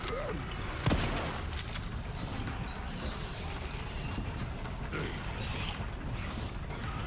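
Shotgun fire in the survival horror game Resident Evil 9 Requiem, with one sharp blast near the start standing out over a steady din of game ambience and combat noise.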